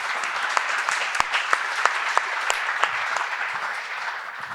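Sustained audience applause at a Toronto Nova Exhibit talk, dense steady clapping from a sizable crowd with a few sharper individual claps standing out, continuous for several seconds with no talking.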